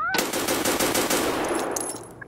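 A loud, close burst of automatic gunfire in Escape from Tarkov: rapid shots lasting about two seconds, then a short fading tail, with no talk over it.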